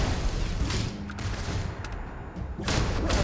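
Turret gunfire in the video game Starfield, a dense continuous fusillade of rapid shots with booming low rumble throughout, loud and busy with no clear pauses.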